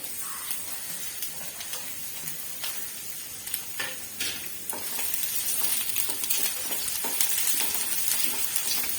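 Sliced onions sizzle loudly in a hot pan while being stirred for beef fried rice, a dense steady hiss broken by scraping and clattering spatula strokes, growing a little fuller toward the end.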